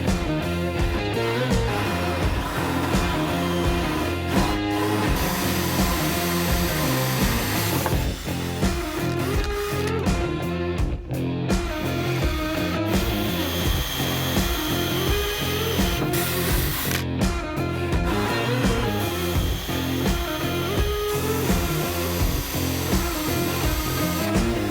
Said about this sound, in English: the 20mm and 40mm carbide hole saws there went through straight away